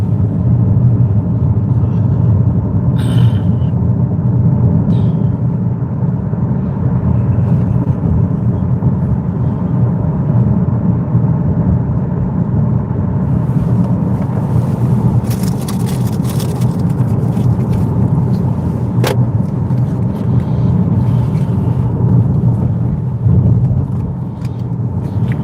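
Car interior road noise while driving near the University of Indianapolis during a snowstorm, a steady loud engine and tyre rumble throughout with a few brief clicks and rattles.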